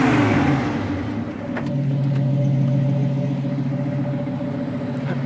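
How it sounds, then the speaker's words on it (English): A low, steady engine rumble from the exhaust of an original 1975 Chevy Nova, idling with a slight rev near the start, close and continuous with no talking. "good sounding exhaust"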